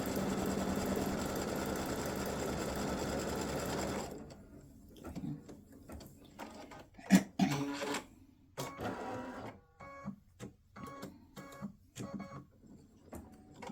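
An embroidery machine stitches the tack-down outline of an elf legs and bow stocking design, whirring quickly and continuously for about four seconds, then falling to intermittent ticks, clicks and short mechanical bursts.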